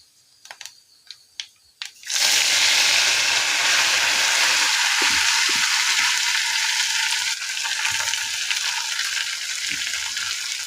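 A few sharp pops of mustard seeds in hot oil with turmeric for a stinging-nettle leaf thoran give way to a sudden loud, sustained sizzle as more is added to the pan, close and continuous.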